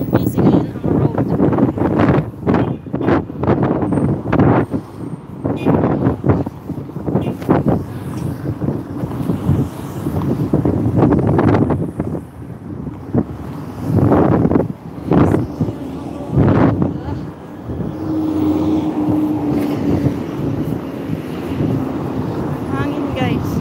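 Strong wind buffets a phone microphone outdoors beside a busy city road, producing a loud, continuous roar that swells and dips in gusts for the whole stretch.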